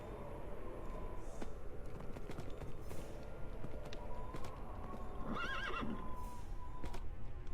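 A horse in Minecraft whinnies and clip-clops, its hooves tapping in an irregular walking rhythm through a low ambient bed, with a clear shrill neigh rising midway; faint and fairly distant overall.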